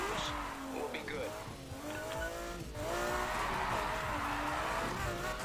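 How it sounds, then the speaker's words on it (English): A McLaren F1 in the racing game Need for Speed Heat revs loudly with rising and falling engine pitch and intermittent tire squeal, heard continuously through the clip. "It sounds like a McLaren F1."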